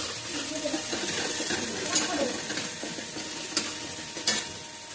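Turmeric and Kashmiri chili powder being stirred and sautéed in hot oil in a pan for a mustard-poppy hilsa dish: a steady close sizzle with a few scattered spatula clicks and scrapes.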